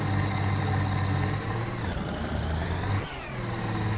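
Ford 1210 tractor on a muddy forest road, its diesel engine droning loud and close with a steady low rumble that dips briefly and then surges back as it labors through the mud.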